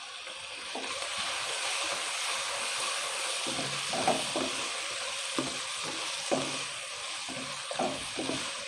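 Chicken korma masala sautéing in a pan gives a soft, continuous sizzle, with intermittent scraping and stirring clatters from a spoon recurring every second or so.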